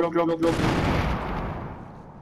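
Gunfire in Fortnite aimed at a vending machine: a quick cluster of shots at the start, then a heavy booming impact that rolls off and fades, with a voice briefly over the opening shots.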